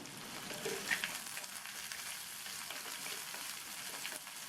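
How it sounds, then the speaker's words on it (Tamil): Onion, garlic and dried red chillies sautéing in oil for an avarakkai (broad bean) paruppu poriyal, giving a steady, close sizzle and crackle throughout with no talking. "வெங்காயத்தை லைட்டாக வதக்கி விட்டுட்டு கட் பண்ணி வச்ச அவரைக்காயை இதில் சேர்த்துடலாம்."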